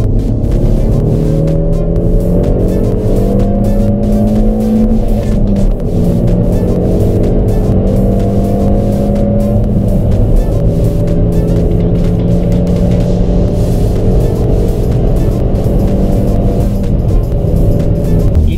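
A Peugeot 308 GTI with 270 hp drives steadily, its engine droning loud and close throughout, with rising and falling pitch as it pulls through the gears.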